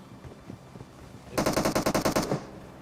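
Rapid automatic gunfire from the BGMI battle royale game, a loud burst of about a dozen evenly spaced shots lasting roughly a second, preceded by quieter scattered game noise.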